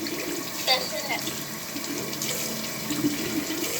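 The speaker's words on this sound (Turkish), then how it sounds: "Su açık duyamıyorum seni." A bathroom tap runs into a sink during hand and face washing, a steady close hiss of flowing water with light splashes. A young voice speaks briefly over it.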